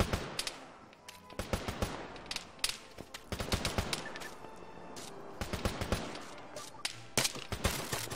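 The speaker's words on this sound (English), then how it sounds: "Check with sniper, we're taking long range fire." Rapid bursts of gunfire from Arma 3 crack out in irregular clusters and sustained volleys, sounding somewhat distant and layered, with no voices over the shooting.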